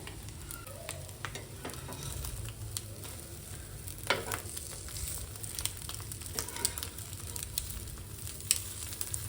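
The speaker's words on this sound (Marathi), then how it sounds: "दोन्ही साईडनी मस्त आपल्याला पाव हे शेकून घ्यायचे आहे" Two bread halves toasting in egg mixture on a pan, a continuous soft close sizzle with scattered stirring and pressing scrapes throughout.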